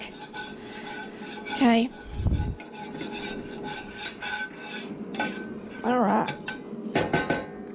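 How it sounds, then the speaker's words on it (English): Metal utensil scraping stuck hash brown residue off the bottom of a pan, a few rough rasping strokes with clanks of cookware, close and moderately loud, with brief speech in between. "I'm going to scrape this off the bottom because if I don't, my hash browns are going to stick"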